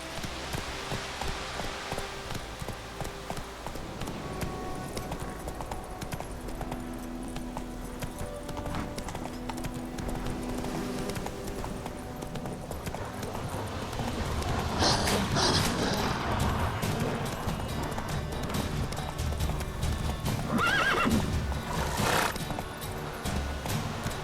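Horse hooves clip-clop steadily through the fantasy world of The Witcher 3, close and continuous, with neighs and snorts breaking through, a louder burst of whinnying near the end.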